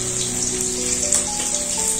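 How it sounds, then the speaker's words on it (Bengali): Water poured into a wok on the stove for boiling chalta fruit, a steady splashing, gurgling stream close by with a frying-like hiss underneath, continuous and fairly loud throughout. "কড়াইয়ের মধ্যে অল্প করে জল দেব।"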